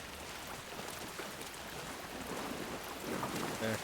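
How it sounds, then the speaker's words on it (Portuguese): Steady rain falls in a dense forest in Alan Wake 2, a continuous broadband wash of drops with faint ambient tones rising slightly near the end. "Aí tá chovendo ainda"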